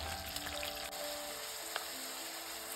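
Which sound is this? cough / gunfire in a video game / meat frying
meat frying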